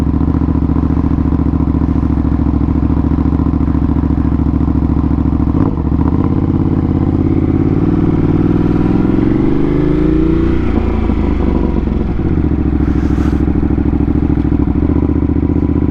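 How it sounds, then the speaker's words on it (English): A 2025 Ducati Panigale V2S motorcycle with an upgraded exhaust rumbles loudly and steadily up close, its engine note rising and falling through a few revs before settling back to a deep idle. "Man, that exhaust sounds so good."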